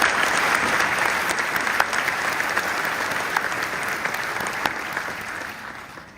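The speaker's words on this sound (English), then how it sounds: "Let's give him another round of applause." Warm, sustained applause from a large audience at an Aston University graduation ceremony for the class of 2024, with a few sharper claps standing out before the sound gradually thins and fades near the end.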